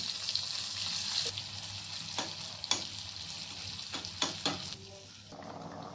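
Sliced ginger, a green chilli and Kashmiri red chilli powder fry in a pan with a soft, steady sizzle, punctuated by several short scraping strokes of a spoon; fairly quiet and close, no voices.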